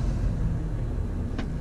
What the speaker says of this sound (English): Two lorries.